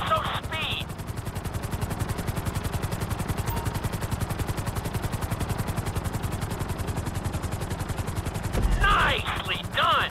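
A helicopter flies a marked course at a GTA V flight school, a steady loud rotor chop pulsing throughout with a brief burst of other game noise near the end.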